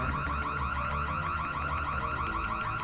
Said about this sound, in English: Sound the alarm. They will make shit hard for you